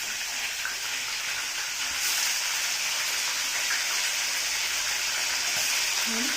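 Fish pieces fry in hot oil with a steady, dense sizzle and crackle at close range, even and unbroken throughout, with no talking.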